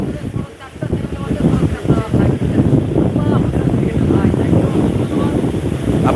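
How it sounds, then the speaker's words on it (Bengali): Strong wind and rain sweep across Digha beach by a rough sea, with a loud, constant rushing roar and buffeting gusts. A person talks over it throughout. "প্রবল গতিতে চলছে বাতাস প্লাস হচ্ছে বৃষ্টিও জোরদার শুরু শুরু হয়ে গেছে দীঘার সৈকতে"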